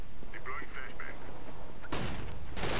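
Gunfire in the shooter game Counter-Strike: Global Offensive, heard as a couple of sharp broadband bursts late in the clip over a steady background of game noise and faint tonal cues.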